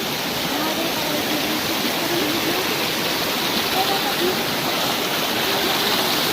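A small waterfall pours steadily on a Himalayan mountain trek, giving a continuous broadband rush of falling water with no breaks, moderately loud and close.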